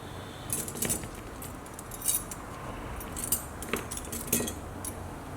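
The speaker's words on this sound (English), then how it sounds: "as soon as we get these keys cleaned up" Tarnished clarinet keys jangle and clink while being handled for cleaning, light metallic chinks scattered in small bursts over a steady background hiss.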